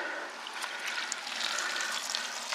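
Rusty heater core flush water is poured from a bucket in a steady, continuous splashing gush. It is close and moderately loud, with no talking.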